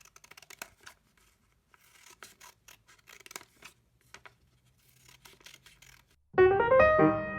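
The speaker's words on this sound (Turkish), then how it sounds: "İkiye katladıktan sonra bu çizgiler üzerinden kesiyoruz." Scissors snip through folded paper along drawn lines for a children's lantern craft, a run of crisp, irregular cuts close by with small pauses, then a sudden loud, sustained tonal sound at the end.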